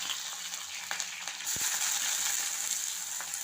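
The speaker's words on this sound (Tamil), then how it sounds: "வெங்காயம் கருவேப்பிலை எல்லாம் போட்டு நல்லா வதக்கி இருக்கலாம்" Onion, curry leaves, dried red and green chilies and chana dal sizzle in hot oil during a tempering, a soft, steady, continuous frying hiss with an occasional faint tap of a spoon, heard alone.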